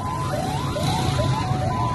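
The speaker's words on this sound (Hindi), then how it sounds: "तो आपको एम्बुलेंस का शोर भी सुनाई दे रहा होगा" An ambulance siren wails, rising and falling repeatedly, steady and moderately distant, over a low background rumble of traffic or crowd, during an attack on a port in Yemen.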